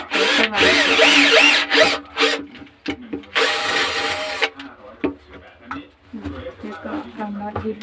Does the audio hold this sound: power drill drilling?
yes